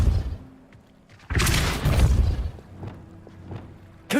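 The Repulsor spell is cast in Hogwarts Legacy, a burst of booming, rushing force about a second long rising out of quieter game ambience, followed by softer thuds and impacts.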